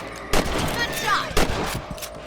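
Two loud rifle shots ring out about a second apart in the Red Dead Redemption video game, over steady outdoor ambience, with a voice speaking faintly between them.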